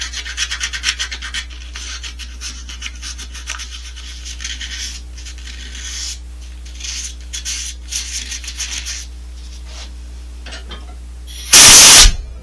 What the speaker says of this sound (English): Gotta do some hand sanding.